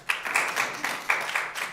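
An audience at a town board meeting breaks into a brief burst of applause, many hands clapping together in an uneven, fairly loud patter that fills the room for under two seconds.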